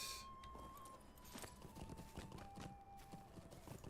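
Horse hooves clip-clop steadily in the online role-playing game Lord of the Rings Online, a moderate, regular trotting rhythm of distinct hoof strikes over faint background game ambience.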